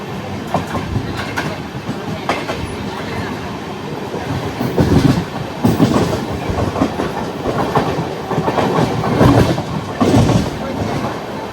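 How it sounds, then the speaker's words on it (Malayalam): The Amrit Bharat Express train runs into Sattur station, its wheels rumbling and clacking over rail joints in a loud, close, continuous roar with swelling bursts, while faint voices come through underneath. "നമ്മുടെ അമൃതഭാരത് എക്സ്പ്രസ് അങ്ങനെ വീണ്ടും ഓൺ ടൈം ആയിട്ട് ഇവിടെ സാത്തൂർ സ്റ്റേഷനിൽ വന്നിരിക്കുകയാണ്"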